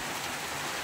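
Rain falls steadily in rainy weather, a dense, even hiss of drops that holds at the same level throughout the brief moment, with no voices.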